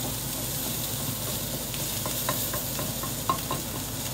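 Shrimp taco filling with cilantro cooking down in a pan, a dense steady sizzle with light utensil taps and clicks growing more frequent toward the end, no speech.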